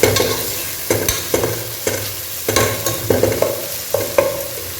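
Green chillies sauté in a pot for kushka biryani with a close, loud sizzle, broken by about eight rhythmic stirring strokes that each scrape and rattle the pot, with no voices.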